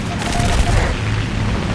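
Brief burst of aircraft cannon and machine-gun fire in a flight combat game featuring the Fw 190 A-4, a loud rapid rattle with a booming low rumble over steady engine noise.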